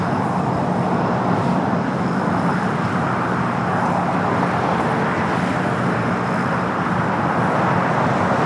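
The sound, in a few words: United Boeing 737-900ER jet departing LAX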